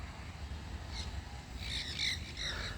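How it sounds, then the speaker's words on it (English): Monk parakeets, also called Quaker parrots, give a few faint, distant chirps and squawking calls over a steady low background rumble, with the calls clustered toward the end. "these are monk parakeets, also known as Quaker parrots"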